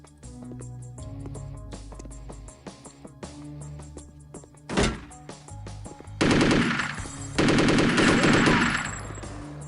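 Bursts of rapid gunfire from the video game Chaser, with sharp single shots and a loud sustained volley near the end, over a low electronic game soundtrack.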